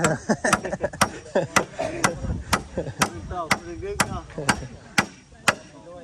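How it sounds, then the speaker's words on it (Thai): Hammering on a hardwood post while a wooden house frame is raised, sharp loud strikes in an irregular then steady rhythm, about a dozen blows, with people talking in between. "ต้องตีค่อย ตีจังหวะเต็กเต็กเต็ก ๆผ่านมันตอกมือกัน"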